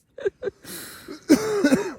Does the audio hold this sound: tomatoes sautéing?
no